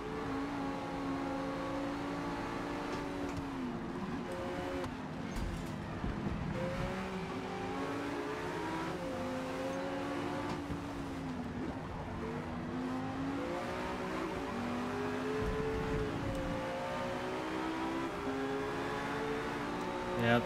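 A Ferrari race car in a racing video game accelerates, its engine tone climbing and shifting through gears in a continuous, steady drone that stays close and fairly loud throughout.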